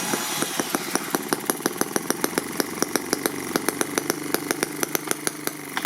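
A primed four-stroke RC engine, fitted to a 1/6-scale 1941 Willys Jeep MB model, cranks over with a rapid, even train of sharp ticks and a buzzing whir, close up and continuous with no voices.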